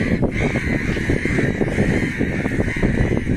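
Harsh, repeated cawing from a crow over a loud, dense outdoor background, continuous and close throughout.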